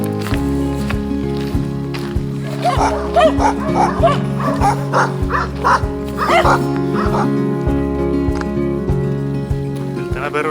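Dogs bark, yip and whimper along the Camino de Invierno trail in Galicia, repeated close yelps and barks coming in bursts over a low steady drone, loud and near throughout.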